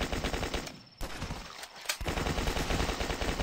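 Automatic assault rifle fire in The Last Stand, rapid evenly spaced shots rattling on loud and close, with a short pause before the burst resumes for the rest of the clip.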